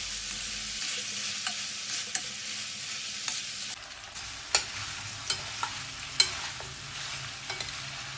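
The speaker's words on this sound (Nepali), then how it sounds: "अब यसमा स्वादअनुसार नुन र बेसार पनि राखेर लो हिटमा मजाले फ्राई गर्छौँ" Spicy tawa chicken fries on low heat with salt and turmeric, a soft steady sizzle punctuated by several sharp clicks of stirring and turning, with no voices.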